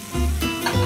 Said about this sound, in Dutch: Die gaat in de pan. Eigenlijk bakken als een steak en dan zijn we klaar.